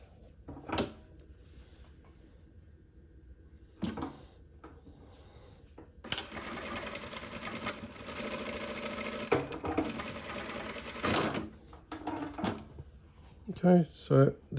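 A JUKI DDL-900C industrial sewing machine runs a pre-programmed decorative stitch, a steady, fairly loud mechanical whir lasting several seconds between short clicks and button knocks, with a voice talking nearby.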